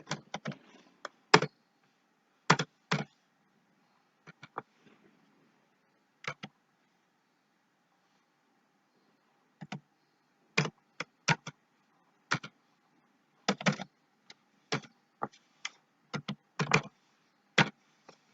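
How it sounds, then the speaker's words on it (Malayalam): Data being typed into an Excel spreadsheet on a computer keyboard: scattered bursts of crisp, close key clicks separated by quiet pauses, in a silent room. "ഇങ്ങനെ ടൈപ്പ് ചെയ്ത് കൊടുത്തു."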